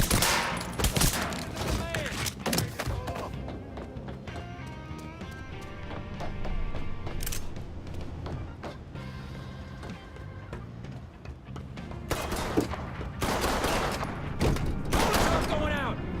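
Gunfight shoot-out in the Mafia III video game, with loud bursts of rapid gunfire and sharp single shots coming in clusters, quieter stretches between them, and voices talking over the shooting.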